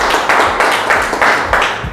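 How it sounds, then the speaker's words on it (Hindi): Loud, dense clapping from an audience at a corporate presentation for the Renatus Nova company, a close, sustained burst of many hands with rhythmic surges of synchronized claps. "तो हम चाहेंगे कि हमारा कंपनी के लिए भी जोरदार ताली होना चाहिए।"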